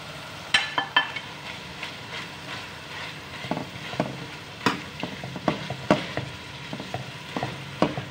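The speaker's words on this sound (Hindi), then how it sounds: "अब मैं ये शलजम मूली जो मैंने निचोड़ के रखी थी ये डाल रही हूँ" Squeezed shredded turnip and radish go into a hot pan, sizzling steadily while a spoon scrapes and clacks against the metal in irregular stirring strokes, loud and close.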